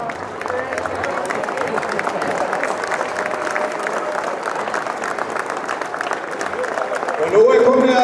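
A crowd of men at a seamen's union 40th anniversary celebration stand and applaud, thick continuous clapping with hubbub and scattered cheers that swells louder near the end.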